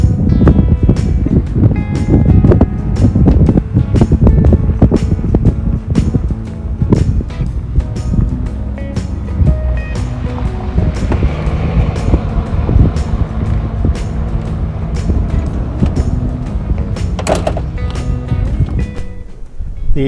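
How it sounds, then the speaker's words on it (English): Strong wind gusting across an exposed campsite in the Badlands, a loud, continuous roar buffeting the microphone with sharp gust bursts throughout, no voices heard. "The wind is really ripping."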